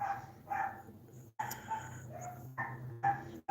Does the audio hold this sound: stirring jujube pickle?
no